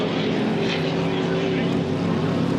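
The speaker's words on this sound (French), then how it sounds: "on ouvre les gaz" Vintage racing boat engine opening its throttle at the Valleyfield regatta, a loud, constant droning roar that fills the whole stretch without letting up.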